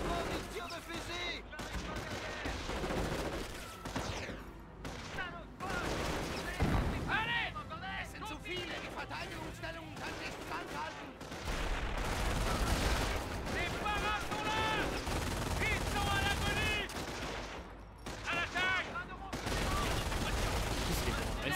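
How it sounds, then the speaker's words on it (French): Rifle gunfire crackles through a Company of Heroes night-attack battle, with scattered shots and bursts coming and going over a long stretch, mixed with game voices and battle noise. "On prend des tirs de fusil."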